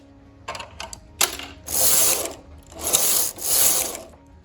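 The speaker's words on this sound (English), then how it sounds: "Cams on your carriage go on to hold position, and go ahead and knit your 6 rows." A domestic knitting machine carriage with its cams set to hold is pushed across the needle bed, giving a few clicking knocks and then repeated swishing, ratcheting passes back and forth, loud and close with no talking.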